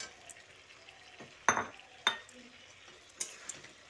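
Spatula scraping and clinking against a pan while fried potato and pointed gourd are stirred into masala, a few sharp metallic knocks over a soft sizzle.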